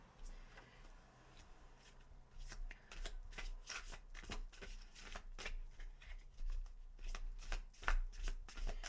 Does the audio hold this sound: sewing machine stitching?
no